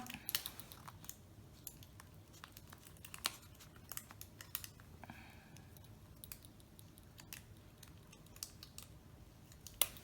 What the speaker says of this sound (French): je vais couper ma dentelle